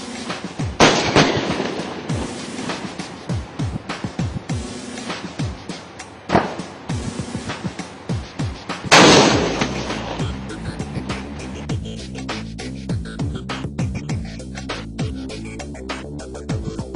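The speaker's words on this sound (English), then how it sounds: "an attack exercise with live firing and involving Air Force, aviation, artillery and armor as well" Live-fire military attack exercise at a military academy, with artillery, armor and air support: repeated sharp blasts and cracks in rapid succession, one loud burst near the middle, then continuing scattered detonations over a rumbling background, no talk.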